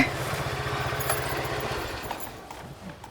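A motorcycle fitted with a quieter exhaust revs near at hand, giving a low, pulsing engine rumble that fades toward the end.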